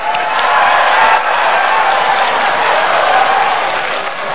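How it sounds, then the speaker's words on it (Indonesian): An audience at a presidential debate breaks into steady, full applause that stays loud and dense for several seconds before tapering slightly. "Silahkan, kalau ada yang mau tepuk tangan silahkan."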